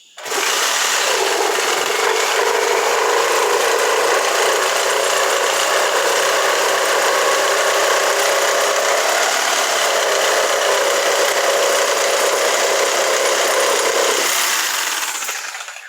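Sawzall reciprocating saw with a worn blade cutting through a termite-damaged wooden bottom plate under a built-in closet, a loud continuous buzzing drone that runs steadily for about fourteen seconds before it stops.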